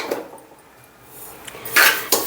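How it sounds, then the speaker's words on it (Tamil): Semolina (rava) roasting in a pan for a Diwali coconut sweet, with soft scraping and a few sharp metal clinks of a spoon against the pan near the end. "இந்த ரவா வறுத்துக்கிட்டு இருக்கேன்"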